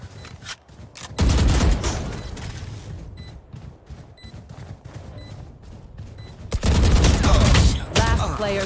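Gunfire from the Valorant video game: a short burst of shots, then scattered quieter reports, then a longer loud volley near the end.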